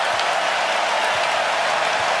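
A basketball arena crowd rises and cheers late in a playoff game, a dense, steady roar of applause and voices filling the space.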